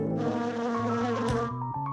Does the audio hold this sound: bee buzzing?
yes